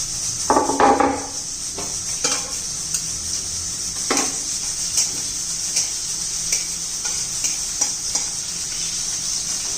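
Finely chopped green chilli and garlic fry in hot oil with a steady bright sizzle, broken by scattered clinks and scrapes of a spoon stirring against the pan.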